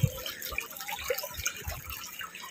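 Water flowing at an irrigation control point in Indang, Cavite, where debris had blocked the channel; a soft, uneven trickle and splash with small bubbling drops, fairly close.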